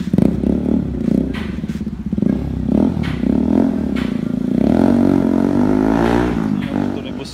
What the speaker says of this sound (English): Ito yung motor ni Busyong, ha?